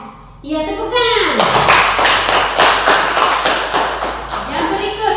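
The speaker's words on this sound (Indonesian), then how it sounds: "Iya, tepuk tangan." Children in a Catholic religious education classroom clap together in a lively burst of quick, close hand claps that runs for several seconds, with a voice heard briefly before and after.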